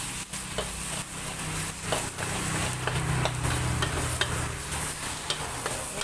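Wide rice noodles with chicken stir-fried over high heat: a steady, close sizzle with repeated spatula scrapes and stirring strokes over a low burner rumble, no voices.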